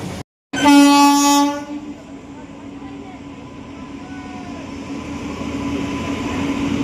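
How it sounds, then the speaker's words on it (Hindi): The Shri Shakti AC Express, hauled by a WAP-7 electric locomotive, arrives at Ludhiana railway station. A loud, close horn blast opens the scene, followed by a low, building rumble as the train rolls in. "तो फाइनली हमारी ट्रेन का अराइवल हो रहा है। ये जो सामने ट्रेन आ रही है वेब 7 के साथ श्री शक्ति एक्सप्रेस।"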